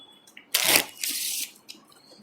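A deck of Mint 2 playing cards gets a quick shuffle close by, with two short riffling bursts, the first louder, over a quiet room.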